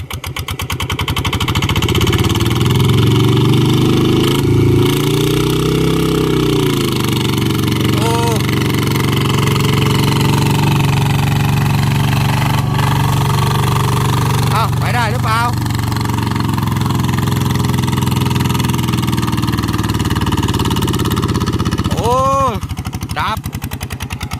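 A field vehicle's engine, fitted with a new camshaft, runs in second gear through a rice paddy with a loud, steady, rough mid-pitched chugging that continues throughout, with brief whistling squeaks and voices talking over it.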